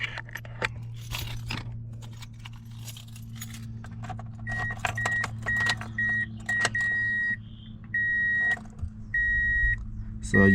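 A key goes into the ignition of a Toyota Matrix with close metallic jangling, followed by a repeating electronic chime pulsing in a regular rhythm over a low hum from the car.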